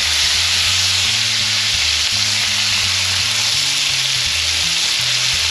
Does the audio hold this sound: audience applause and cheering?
no